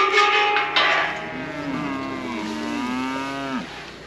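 Cattle being let out on a farm give a single long, loud, close moo lasting a few seconds, with faint outdoor rustling around it.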